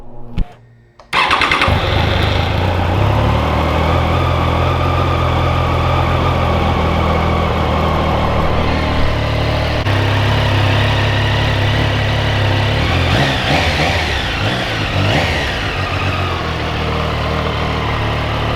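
A 2025 sport bike motorcycle starts up after a brief silence, then idles steadily and loudly nearby. Occasional revs rise out of the idle toward the end.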